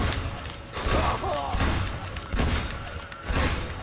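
Gunfire crackles in the Uncharted 2: Among Thieves video game, several shots coming in bursts roughly a second apart amid a busy, dense soundscape, fairly loud and without talk.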